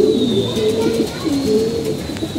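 Pigeon kept in a loft cooing in repeated low, rolling phrases, close and steady, over a constant background hiss with a thin high whine.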